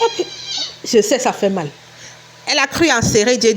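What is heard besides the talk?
cat meowing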